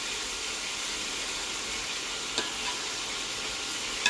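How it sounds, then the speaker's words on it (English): Onion and garlic sizzle in butter in a pan, a dense, steady frying hiss heard up close with an occasional soft stir or clink and no talking. "the onion and garlic we're going to cook for a second with a little bit of butter"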